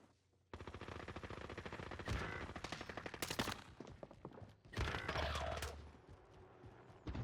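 Rapid automatic gunfire in Warzone, loud bursts of machine-gun fire with brief pauses between volleys, no talk.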